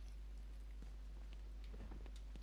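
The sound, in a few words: storm rain and thunder in Batman video game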